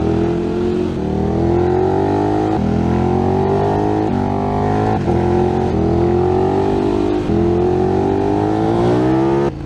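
A KTM Superduke engine revs loudly and close, climbing through the gears in repeated rising pulls with short dips between shifts.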